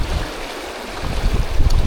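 The River Stinchar at Balnowlart, running well with good water after small spates on a very windy day, gives a steady close rushing wash that swells louder toward the end, with no voices.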